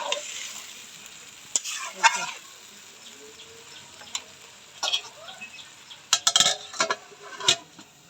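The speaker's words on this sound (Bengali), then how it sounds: "ভালো করে কষাই নেব দেখবো মাংসটা কষানো কতটা কষানো হয়েছে" Mutton being stir-fried (koshano) in a pan for a pulao and mutton dish, with soft sizzling under repeated scraping and clanking stirs from a spatula against the pan, in bursts close by.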